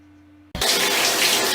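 After a moment of near silence, a shower suddenly bursts on into a loud, steady hiss of running water.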